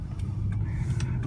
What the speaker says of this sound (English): You can tell that motor isn't straining at all to move this car.